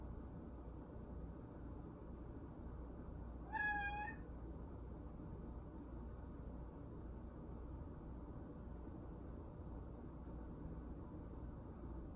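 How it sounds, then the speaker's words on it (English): A house cat lets out a single short meow partway through, clear but fairly quiet against a steady low background hum during a calm bedtime yoga session. "My cat will probably start meowing."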